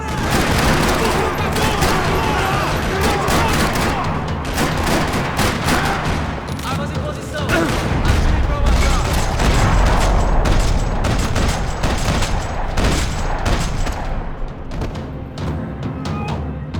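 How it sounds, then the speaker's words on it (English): Sustained gunfire fills a parking lot shootout in the video game Max Payne 3, with dense, rapid bursts of automatic fire and booming shots running loud and continuous throughout. "Another parking lot rattling with gunfire."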